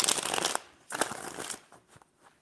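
A deck of tarot cards riffles in close, loud bursts: one long shuffle, a short pause, a second burst, then softer trailing flicks as the cards settle.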